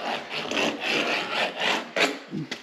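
Caulking cut away around a wooden door jamb during a guest house renovation, heard as a series of close, rhythmic scraping and rasping strokes, moderately loud, with no talking.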